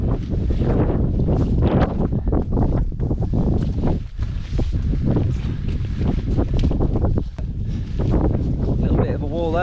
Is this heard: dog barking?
no